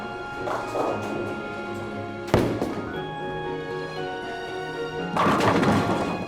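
A bowling ball strikes pins at a bowling alley: a sharp crashing clatter mid-clip, then a louder scattering crash near the end over a busy hall hum.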